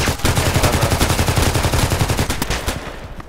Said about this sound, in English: I had been shooting the handgun